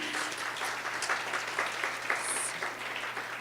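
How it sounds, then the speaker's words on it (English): Audience at an opening ceremony gives a faint, distant round of applause, a continuous patter of many hands with a low hum beneath. "Give a round of applause for everybody"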